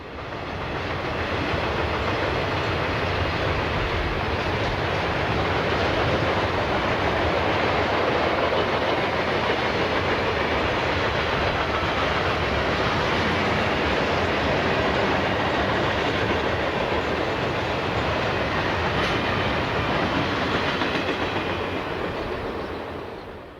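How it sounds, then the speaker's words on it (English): A northbound Norfolk Southern freight led by a GE C39-8 diesel locomotive on the Piedmont in 1989 rolls past as a loud, sustained rumble with wheel clatter, swelling in and holding steady before easing slightly at the end. "northbound train 142 with a newer GE C39-8 locomotive leading the train"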